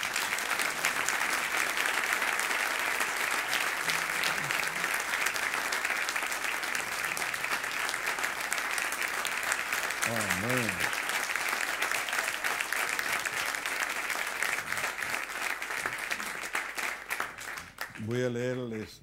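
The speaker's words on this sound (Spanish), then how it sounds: "Y le vamos a dar un aplauso porque cumplieron 50 años." A church congregation applauds a couple celebrating their 50th wedding anniversary, a full, sustained round of clapping that fills the room. A voice speaks briefly over it near the middle and again as the applause fades at the end.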